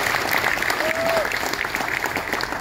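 Sustained applause from a concert audience on the P&O Ventura Christmas cruise, thick continuous clapping at an even level with a brief voice or whistle tone rising briefly above it.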